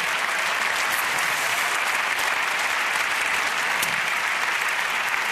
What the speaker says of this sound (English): please, one more hand of applause for the winners and the nominees of this awards